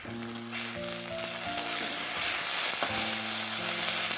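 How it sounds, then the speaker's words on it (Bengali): Chopped tomatoes hit a hot pan with green chillies and onions, giving a steady hiss and crackling sizzle that grows fuller and louder over a few seconds. "এবার এর মধ্যে দিয়ে দিলাম টমেটো কুচি।"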